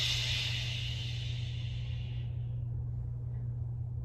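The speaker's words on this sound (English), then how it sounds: "I like to make a shushing noise" A long shushing exhale during pelvic floor breathing, a close hiss that fades out after about two and a half seconds, over a steady low electrical hum.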